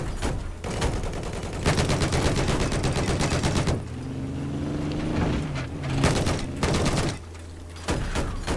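Rapid gunfire from Battlefield 4 rattles in dense bursts, starting and stopping in several rounds with short gaps, loud and close, with a low engine-like drone underneath between volleys.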